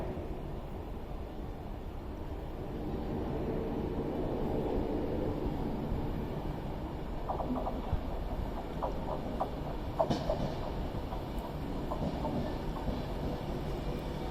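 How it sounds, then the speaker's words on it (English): An Avanti West Coast service from London Euston pulls into Stockport station on the West Coast Main Line, a low, steady rumble of the approaching train with a few faint clicks and squeals over the station ambience. "Coming in now with the 11:36 Avanti West Coast service to Manchester Piccadilly from London"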